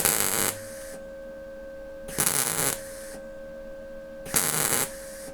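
Welder set to spot weld mode, working on a Model T, with three short bursts of a steady electrical buzz and hum separated by a quieter constant mains hum.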